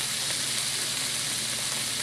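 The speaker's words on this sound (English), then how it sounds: "Oh, it's sizzling." Steady, loud sizzling of aromatics frying in a hot wok, a continuous crackling hiss with no voices.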